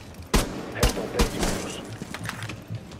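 Gunfire in the tactical shooter game Rainbow Six Siege: three sharp, loud shots about half a second apart, followed by fainter thuds and game noise, with voices chatting around them.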